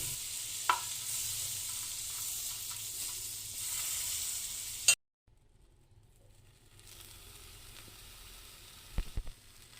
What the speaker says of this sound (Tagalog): let's melt 10 grams of butter.